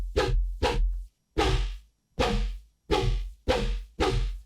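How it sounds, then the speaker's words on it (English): A springy synth 'yoink' effect with delay fires in quick repeated bursts, each a sharp swooping zip. Some come in close pairs and others stand alone, loud and without talk. "that's that like springy sound you hear in like a purple Lamborghini yoink"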